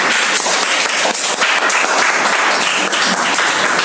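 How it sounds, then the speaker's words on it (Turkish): A crowd applauds continuously, a dense wash of clapping hands holding steady at full volume for several seconds. "sizden bir alkış istiyoruz"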